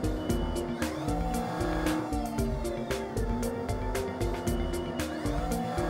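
A CNC mill spindle ramps down into a branding iron workpiece, giving a steady tonal machining whine layered with sharp, repeated ticking cutter hits at an even rhythm, loud and close.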